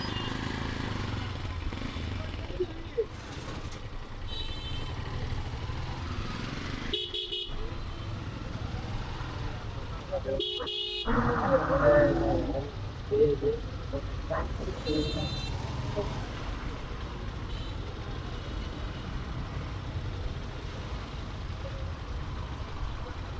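A car drives along a road toward Sreemangal, with a continuous low engine and road rumble, a few short horn toots from surrounding traffic, and people talking over the drive.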